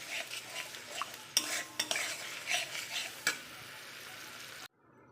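Pointed gourd fries over high heat with poppy, mustard, sesame and green chilli paste, giving a soft continuous sizzle broken by several sharp spoon scrapes and taps against the pan before the sound cuts out.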